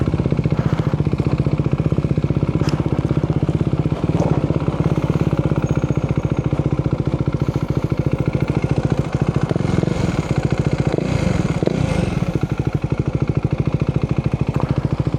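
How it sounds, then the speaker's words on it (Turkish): A motorcycle, a newly bought first bike in Australia, idles close by with a steady, loud, slightly uneven pulsing throb that holds unbroken for the whole stretch. "Bu motorun rölantisini niye böyle ya"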